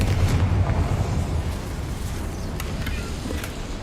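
Confringo fire spell blasts in Hogwarts Legacy, a loud rumbling explosion that booms at the start and then decays into a long roaring tail, with faint sharp crackles later on.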